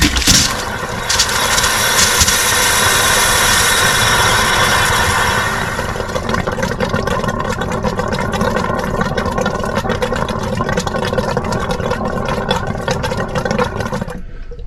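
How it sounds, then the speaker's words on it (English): A tyre inflator compressor pumps up to 30 psi while draining down a static caravan, a loud mechanical buzzing drone with rapid rhythmic pulsing that settles into a steady chatter before cutting off. "just let the inflator build up to 30 psi again"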